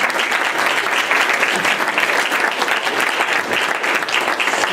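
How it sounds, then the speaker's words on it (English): Dense, loud applause from an audience at a board of education meeting, steady and sustained throughout with no break in the clapping. "let's give her a round of applause."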